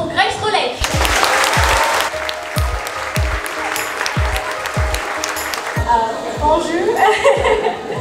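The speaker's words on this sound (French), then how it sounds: "Je vous demande un tonnerre d'applaudissements pour Grace Rolek." Audience applause for voice actress Grace Rolek at a French cartoon convention, a broad wash of clapping with a rhythmic beat thumping underneath and some chuckling and speech mixed in.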